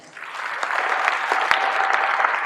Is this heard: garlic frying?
no